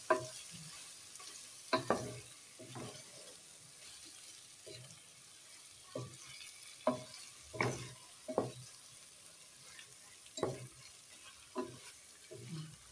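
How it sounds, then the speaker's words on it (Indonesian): Eggs and tofu being stirred in opor sauce in a pan, with scattered spoon scrapes and soft clinks against the pot over a faint background sizzle, irregular and close, no talk. "Selanjutnya kita akan aduk sebentar supaya telur dan tahunya ini meresap terlebih dahulu untuk bumbunya"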